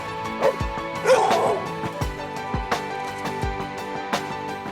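A dog barks repeatedly in short, sharp yips and bow-wows at an uneven rhythm, close and loud, with a brief whimper and clatter early on.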